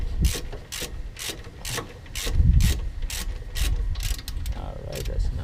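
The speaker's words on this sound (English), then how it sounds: "You can use your hand or the ratchet." Hand ratchet clicking rapidly while turning a 14 mm bolt during a brake job on a 2009–2012 Subaru Forester, a steady string of close, crisp ratcheting clicks with faint workshop rumble underneath.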